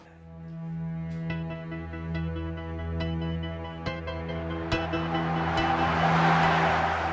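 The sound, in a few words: trucks passing on the RN20 road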